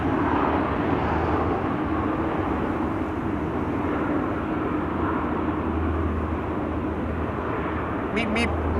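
A departing aircraft at Amsterdam Schiphol airport, a continuous loud engine roar holding steady throughout, with a faint brief chirp near the end.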